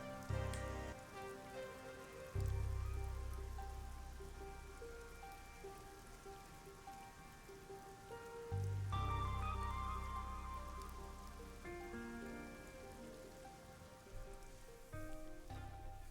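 Rain falling in the video game Raincode, a soft steady patter beneath a low layered musical score that swells and fades in places, faint overall with no talking.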